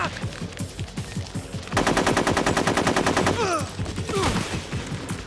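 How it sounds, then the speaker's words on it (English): Rapid automatic gunfire from the video game Metal Gear Solid 3: Snake Eater, a dense sustained burst of shots in the middle of the clip with scattered single shots and clatter around it, loud and close. "Shoot the other one!"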